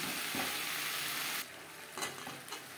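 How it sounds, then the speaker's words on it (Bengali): Potatoes and spices are stirred in a sizzling pan, giving a close, steady frying hiss with a few soft scraping strokes. No one talks. "আলুর সাথে মশলা বেশ ভালো করে মিক্স করে দেব।"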